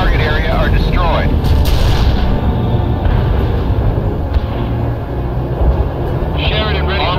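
Heavy booming artillery strikes land in the strategy game World in Conflict, a run of loud rumbling blasts and explosions over several seconds beneath a battlefield din.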